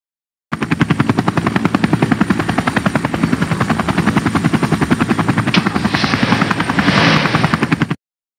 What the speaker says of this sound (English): Now let's get in other helicopter and we will be on our way to court for your family's trial.